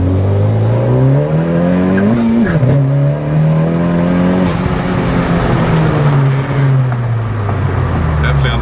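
A 2019 Honda Civic Type R hatchback fitted with Mugen parts accelerates hard, its engine note climbing through a gear, dipping at a shift and rising again, loud and close from inside the car.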